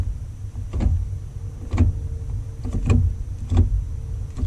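Hurst short shifter in a V6 Chevrolet Camaro clicking hard into place with the car off, several sharp mechanical clicks spaced about a second apart over a low steady background rumble.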